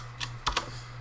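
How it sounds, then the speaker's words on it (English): A few quick keystrokes on a computer keyboard, three light taps close by in a quiet room over a steady low hum. "So I'm going to type in transform."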